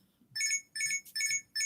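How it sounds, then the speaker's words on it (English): Alarm chiming in four evenly spaced bright electronic bursts, each about a quarter second long, loud and close in an otherwise quiet room. "Oh, that's my alarm."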